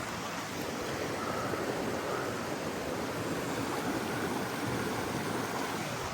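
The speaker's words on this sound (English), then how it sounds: "Really pretty river." A river runs over a beaver dam near a small beach in the woods, giving a steady broadband wash of flowing water, close and unbroken with no voices.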